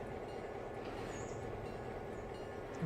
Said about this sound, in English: Sounds like an AI train.